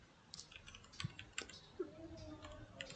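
Soft keystrokes on a computer keyboard while code is typed, a quiet irregular patter of a dozen or so clicks with brief pauses, close and faint.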